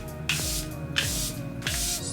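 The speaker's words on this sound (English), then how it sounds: "I'm actually gonna set my face with the Charlotte Tilbury spray first." Charlotte Tilbury setting spray misted onto a face in three short, evenly spaced hissing spritzes, close and fairly quiet, with no talking.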